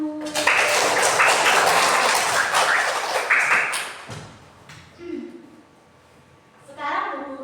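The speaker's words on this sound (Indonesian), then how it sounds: "Oke, tepuk tangan dulu." Schoolchildren in a classroom clapping together on a teacher's cue, a dense loud burst of clapping for about four seconds that breaks off, followed by a few knocks and children's voices.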